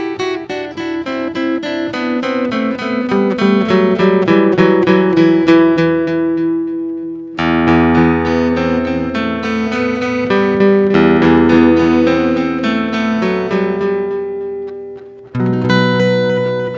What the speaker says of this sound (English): So as you can hear, the delay is kind of tasty.